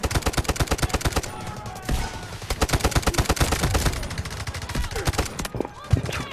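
Rapid automatic gunfire in the Delta Force video game, loud sustained bursts of closely spaced shots with brief gaps, continuing throughout without clear talk over it.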